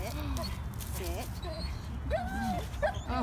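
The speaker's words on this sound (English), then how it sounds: "you can hear how another dog is being very annoying nearby" Dog nearby whimpering and yipping in short, repeated high-pitched cries, several bursts spread across a few seconds over a murmur of background noise, fairly faint and a little distant.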